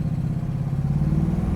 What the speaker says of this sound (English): Listen to the exhaust.